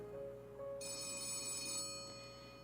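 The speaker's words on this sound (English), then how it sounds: "The office phone is ringing." An office telephone in the video game Letter Lost rings with a bright electronic trill, one ring burst starting sharply and holding for about a second over a low background hum, with no talk.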